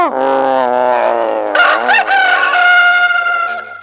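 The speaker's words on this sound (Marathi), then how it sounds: "कोंबडा मोठ्याने आरवला." A loud, drawn-out rooster crow rising and wavering, sounding near and standing alone with no talk.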